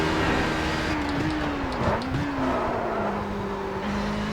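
Simulated HPD prototype race car engine in iRacing at Circuit de la Sarthe, a steady high-pitched drone that rises and dips slightly with throttle and shifts, loud and continuous with no talk.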